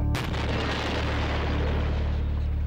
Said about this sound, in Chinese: 确认附近无人后，爆破开始。